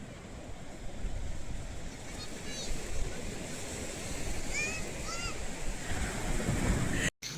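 Ocean surf rolls steadily onto Tarkarli beach, a continuous wash of waves mixed with wind buffeting the microphone, with a few faint high chirps over the roar.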